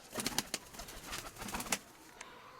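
A pigeon close by, soft cooing and rustling with a few wing flaps, faint and intermittent over a quiet background.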